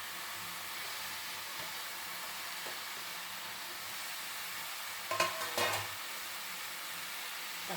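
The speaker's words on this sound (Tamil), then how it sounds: "வெங்காயம் கொஞ்சம் வதங்கணும்." Onions sautéing in a pan for an onion-tomato thokku, a soft continuous sizzle with a short burst of stirring scrapes late on, no voices.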